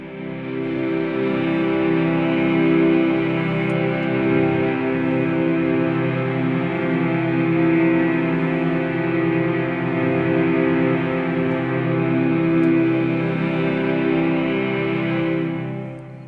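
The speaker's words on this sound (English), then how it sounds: "And then there's the amplified cello." A free software plugin plays an amplified cello as one sustained, rich bowed tone that swells and holds steadily for about sixteen seconds before fading. The tone sounds full and close, with a reverberant tail and no talking.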